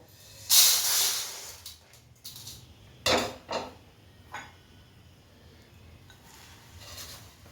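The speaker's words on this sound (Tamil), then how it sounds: "அடுத்து வந்து முருங்கைக்கீரை எடுத்து வறுத்துடுவோம்" Drumstick leaves roast in a pan over low heat with loud bursts of crackling hiss as they hit the hot surface, then softer sizzles and light scraping, no voices.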